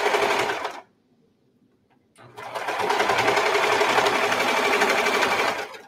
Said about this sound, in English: I'm sewing one of these shoulder seams.